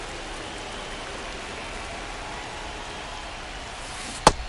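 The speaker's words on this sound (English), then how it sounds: "This rain is not letting up." Steady rain pours over an outdoor baseball stadium during a Yankees game against the Angels, a constant broadband hiss with no voices, broken near the end by one sharp, brief knock.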